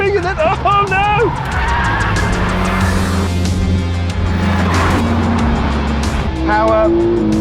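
A Ford Focus RS and a Renault Megane R26.R racing hard on track, engines loud and close with rising and falling revs, gear shifts and tire squeal, while someone talks over the noise.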